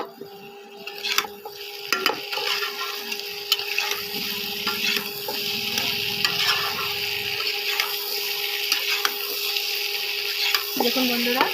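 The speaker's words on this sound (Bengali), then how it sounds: "এবার বন্ধুরা একসাথে কষিয়ে নেব।" Small potatoes and spices fry in oil in a pan, giving a continuous close sizzle with scattered scrapes and taps of a spoon stirring. A steady tone hums underneath, and nobody speaks.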